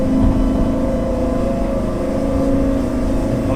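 A Lamborghini Gallardo Superleggera engine idling and rumbling loudly in town, a steady deep drone with a strong low throb, echoing off surroundings, with no talk.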